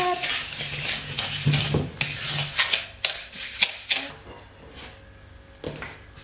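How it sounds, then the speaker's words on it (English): Sugar being stirred into melted butter for brownie batter, heard as close, rhythmic scraping and swishing strokes in a bowl that taper off toward the end, with a faint hum behind. "And then you add 1 cup of sugar to that, and you stir it up."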